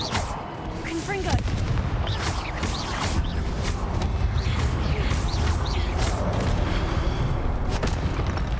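Blasting spell explosions strike stone statues in the Hogwarts Legacy game, a run of loud booming bursts over dense rumbling effects, with voices mixed in.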